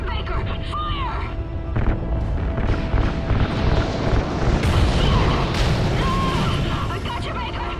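Igniting RCS fuel lines sets off a sustained explosion in a Call of Duty: Ghosts cutscene, heavy rumbling booms and bursts continuing for several seconds, with voices talking over the blast.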